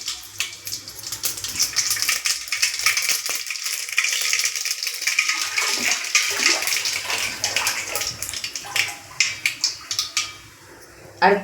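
Mustard seeds in hot oil hiss and crackle loudly, with dense spluttering pops that thin out into sharp, scattered bursts near the end.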